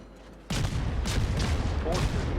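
Guns of the Tier V Soviet destroyer Gvevny open fire in a naval video game, a sudden loud burst of booming shots followed by rolling cannon fire and rumbling impacts continuing to the end.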